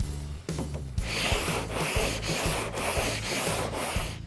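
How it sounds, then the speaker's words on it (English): A polyester glaze coat of body filler on a car panel is cross-block sanded with a fresh piece of 80 grit sandpaper, making close, rhythmic rasping strokes about twice a second. "I'm going to start sanding it with a fresh piece of 80 grit, again the cross blocking"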